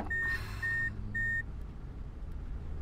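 Vehicle in the video game Road 96 sounding three evenly spaced steady beeps over a low engine rumble, then the engine continues alone.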